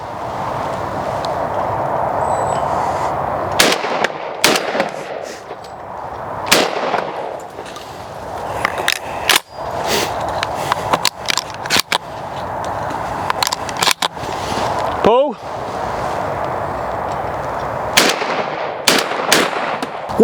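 A Browning semi-auto shotgun fires 28 gram fibre wad cartridges outdoors, with a series of sharp, loud shots in uneven bursts, some in quick pairs. A steady background drone runs between the shots.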